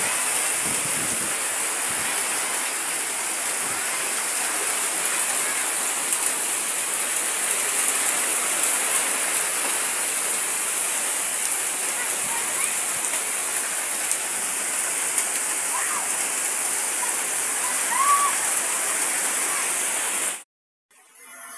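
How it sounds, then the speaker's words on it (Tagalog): Steady, heavy rain pours without a break during a windstorm, a dense hiss drumming on surfaces close by before cutting off abruptly at the end. "Grabe yung lakas ng ulan"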